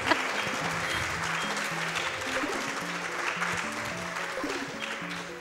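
A crowd at a live speedrunning charity event applauds steadily throughout, a dense, sustained clapping with faint background music underneath.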